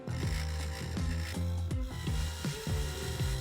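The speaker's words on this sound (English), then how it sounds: "there's very little material holding it on the lathe, so you want to have a particularly light touch for this final stage of the hollowing process" A wood lathe spins while a turning tool hollows a hollowform ornament. The scraping is rhythmic and repeats several times a second over a steady motor whine at moderate volume.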